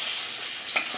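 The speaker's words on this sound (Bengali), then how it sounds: "এই কটা করে ভেজে নেব আমি" Shaplapata fish frying in hot oil, a steady broadband sizzle filling the whole second with a small crackling pop near the end, close and alone without any voices.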